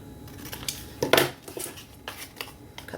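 Scissors snip through a paper bag's corners for a junk journal, a few crisp close cuts with one louder crunching snip in the middle, alone without talk.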